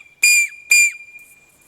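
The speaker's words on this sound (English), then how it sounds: "very, very loud whistle" Two loud, shrill blasts from a small whistle clipped to a belt carabiner fire kit, each about a quarter second long with a short gap between, close to the listener with no talking.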